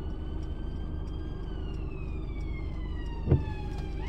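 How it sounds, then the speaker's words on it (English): Ambulance siren sounding from the right side of a car on a wet road, a faint, steady wailing tone heard from inside the vehicle over low road rumble, with a brief knock near the end. "Oh, it's an ambulance. It's coming from the right,"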